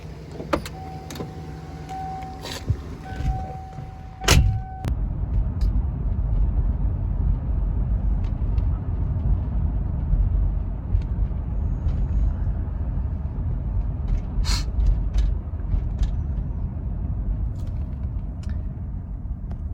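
A 1986 Mercury Grand Marquis heard from inside while driving in below-freezing weather: a few clicks and a brief tone at first, then a low, even cabin rumble of engine and road that stays steady and fairly quiet.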